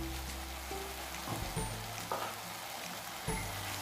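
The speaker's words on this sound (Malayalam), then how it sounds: "നെയ്ക്കകത്ത് ഇത് നല്ല പോലെ ഒന്ന് വഴറ്റിയെടുക്കണം മീഡിയം ഫ്ലെയിമിൽ മതി" Banana and semolina sautéing in ghee over a medium flame, with a soft steady sizzle and a few scraping stirs of a spoon against the pan, no voices.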